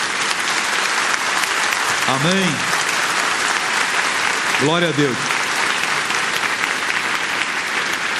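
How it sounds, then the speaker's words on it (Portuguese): A church congregation applauds steadily and loudly throughout, a thick continuous wash of clapping with a voice speaking briefly twice over it. "Pode aplaudir a Jesus, que Ele merece."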